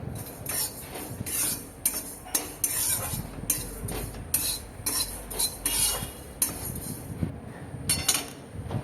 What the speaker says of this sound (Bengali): পাঁচ ফোড়ন এবং এক চামচ জিরে দিয়ে এটাকে আমি ড্রাই রোস্ট করে নেবো